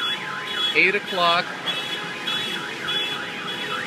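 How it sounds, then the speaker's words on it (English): Car alarms blaring in a flooded Coney Island parking lot during Hurricane Sandy, a warbling electronic siren cycling up and down with a brief chirping alarm, someone briefly speaking over it. "And all the alarms are going off."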